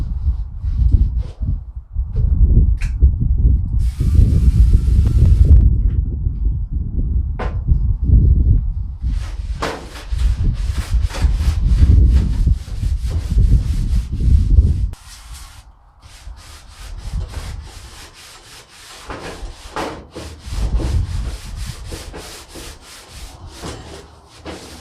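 Oil being rubbed onto charcoal grill grates, giving steady close scrubbing and wiping strokes, rhythmic and fairly loud, with scraping of the grates before the sound quiets into lighter rubbing.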